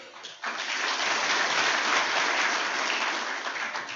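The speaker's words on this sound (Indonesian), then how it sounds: "Enggak usah ditepuki." Dense, sustained applause from a large audience at an academic oration in a hall, starting abruptly and holding steady and loud for several seconds, with no voices over it.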